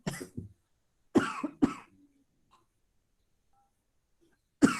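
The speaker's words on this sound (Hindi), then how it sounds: "खांसी होती है" Three short, sharp coughs close by, two quick ones then a pause, followed by quiet and another cough at the very end.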